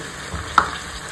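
Meat and a spice paste frying in a pan with a soft continuous sizzle and a single sharp clink of a utensil midway.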